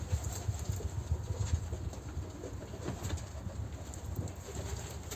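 Pigeons coo in a low, repeated burbling rhythm, close and continuous, with light pattering and shuffling of the birds alongside.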